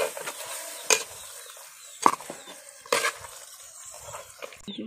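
Masala being stirred in a frying pan while making pulimunchi, with a few distinct scraping strokes against a soft, steady sizzle, fairly close and with no talking.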